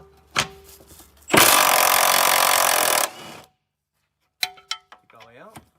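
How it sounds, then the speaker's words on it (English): An impact wrench on a long-reach extension removing an exhaust bolt on a 2015 Ford Mustang GT 5.0L, a loud close two-second rattling burst after a sharp clank, followed by metallic clinks and a brief voice. "we'll use the long reach and the impact to get in there to this one right here"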